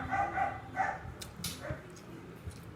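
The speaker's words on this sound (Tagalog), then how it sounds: "Ayun yung aso." A dog barks a few times in quick bursts near the start, moderately close, with faint background noise and a few softer sounds after.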